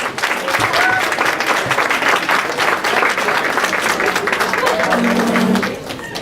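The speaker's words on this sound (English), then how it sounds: "Let's give her a round of applause." An audience at a student success dinner gives a steady round of applause, dense clapping that holds for about six seconds, then drops off at the end.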